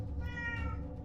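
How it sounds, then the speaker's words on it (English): Pet cat meowing in a long, wavering drawn-out call, fairly close but under a constant low hum, no talk. "Apologize for my cat singing the Song of Her People in the background"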